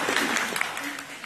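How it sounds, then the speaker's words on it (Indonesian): Brief, fairly quiet applause from an audience at a volunteers' closing ceremony, a soft continuous patter of many hands with no speech. "Tepuk tangan khususnya untuk Sukorejo."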